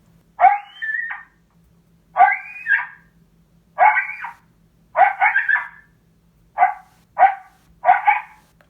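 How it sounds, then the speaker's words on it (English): Series of sharp female coyote challenge-call barks in short bursts, about seven in all, spaced at irregular intervals and loud against a quiet background. "That's a female challenge call."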